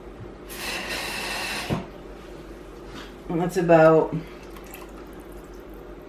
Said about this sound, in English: I'm probably going to add some more water, so I'll do that right now.